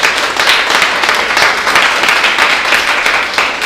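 A church congregation applauds during a Sunday morning service, loud dense clapping from many hands that carries on steadily and close with no break.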